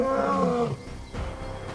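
A lion's deep, drawn-out roar falls off at the end, followed by a lower grunting call, loud and fairly near.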